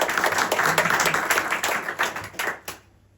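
A short burst of audience applause, many hands clapping together, dense at first and then thinning out and fading to quiet at the end.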